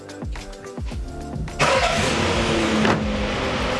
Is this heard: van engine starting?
yes